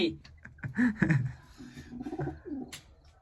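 Pigeons coo in a loft where they are bred for eggs and chicks, several deep throaty coos close by, with a voice talking over and between them.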